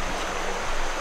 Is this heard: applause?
no